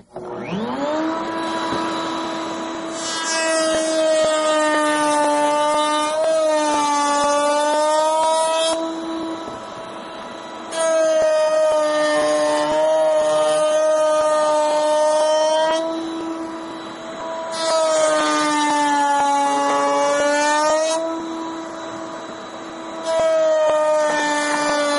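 A hand router cuts the bottom mold of a wooden piece: a loud, steady high-pitched motor whine runs throughout, with the pitch shifting and a harsher cutting roar swelling in three long passes.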